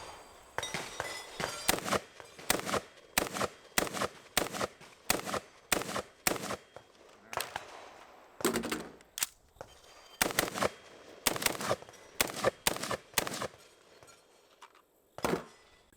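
Shots from a PSA JAKL piston-driven rifle fired with its stock folded, a long run of sharp, loud reports in quick irregular strings with short gaps, close and outdoors.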